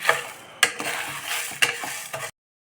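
Frying and stirring in a pan until crisp, a close sizzle punctuated by three or four sharp scraping strokes of the spoon, then sudden silence at the end.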